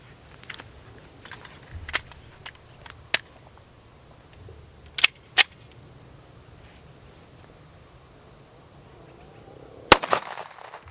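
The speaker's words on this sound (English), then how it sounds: "we're going to be shooting that out of this Kimber Custom LW" Single .45 ACP pistol shots from a Kimber Custom LW fired at body armor, a handful of sharp separate cracks spaced seconds apart over quiet outdoor background.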